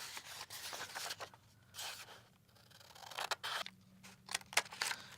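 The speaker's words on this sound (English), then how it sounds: "the first step is to cut off the bottom half of the page" Scissors snip through a paper page in several short, close cuts separated by brief pauses, with faint paper rustling and scraping between strokes.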